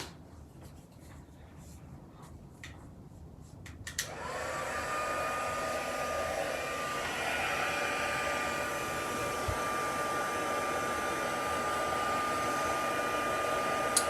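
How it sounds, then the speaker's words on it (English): A heat tool used on watercolor pencil artwork switches on after a few seconds of near silence, then blows hot air in a steady, close whirring hiss that continues to the end. "Now I'm going to bring in my heat tool. So it'll get a little bit noisy."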